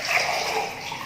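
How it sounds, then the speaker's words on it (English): Water pours steadily into a glass beaker holding a lemon, a brief, close, continuous splashing rush. "When I poured water in the beaker"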